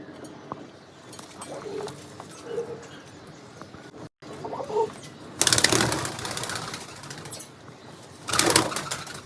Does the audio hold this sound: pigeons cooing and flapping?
yes